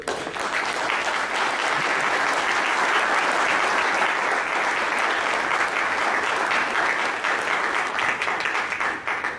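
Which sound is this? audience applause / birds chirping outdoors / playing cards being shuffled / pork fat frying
audience applause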